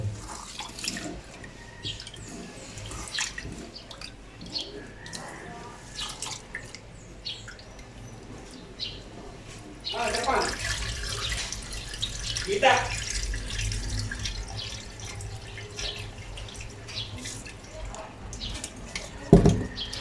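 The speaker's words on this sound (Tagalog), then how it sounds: "hugasan pa natin ang isa para sure na malinis ang ating black rice." Black rice from North Cotabato being washed in water, with faint drips, swishing and splashes under soft background noise and occasional voice.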